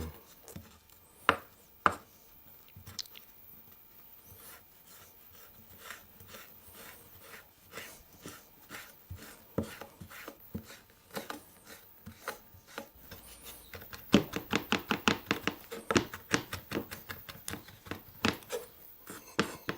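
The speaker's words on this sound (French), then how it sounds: "Et vous hachez des feuilles, des petites tiges de romarin." A knife chops rosemary leaves and small stems on a cutting board in repeated taps, slow and irregular at first, then speeding into a quick, dense burst of strokes.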